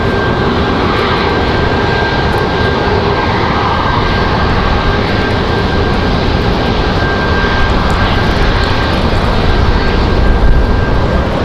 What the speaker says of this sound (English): Got an exec jet on final. Learjet 60 coming in from Springfield.